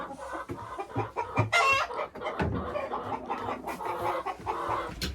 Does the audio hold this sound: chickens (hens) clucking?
yes